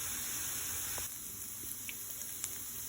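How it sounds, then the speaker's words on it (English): Frozen hash browns and frozen onions fry in margarine in a pan, a quiet steady sizzling hiss with a few faint clicks and pops, no voices. "I have some frozen hash browns with frozen onions. I'm just going to fry this up."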